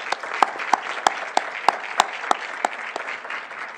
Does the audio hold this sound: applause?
yes